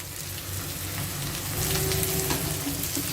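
Chopped ridge gourd pieces sizzle steadily in hot oil with fried onions in a pan, a continuous close crackle that swells louder partway through as the vegetables settle in.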